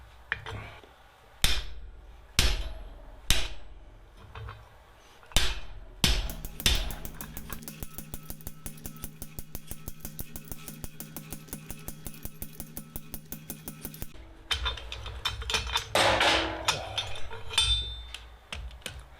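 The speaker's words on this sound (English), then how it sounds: "I'm going to pull out the guillotine and we're going to butcher down the tenon" A forged tenon is hammered on a blacksmith's guillotine tool, sharp ringing blows spaced apart at first, then a fast steady run of rapid strikes, ending in a few louder irregular hits.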